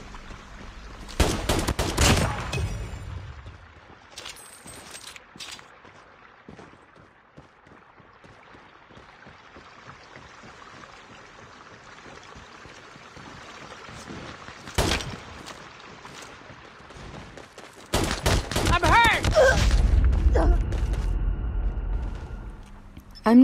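Gunfire in Call of Duty Mobile, pistol play on a firing range: scattered sharp shots early, a lull of quieter game noise, a lone crack midway, then a loud dense burst of firing near the end.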